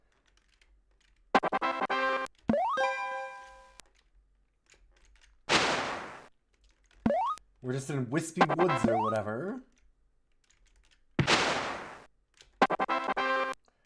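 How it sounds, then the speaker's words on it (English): Sharp bursts of noisy explosion sound effects from a DOS platform game, each loud and brief and recurring at intervals between chiptune-like tones and jumps, while someone talks over parts of the gameplay. "I'm worried if I touch those explosions"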